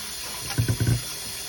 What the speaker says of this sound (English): I'm going to rinse off the salt and soak it